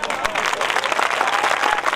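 Applause from a live outdoor comedy show audience at Ramghat, a dense, steady wash of clapping from a crowd, close and fairly loud throughout without any break.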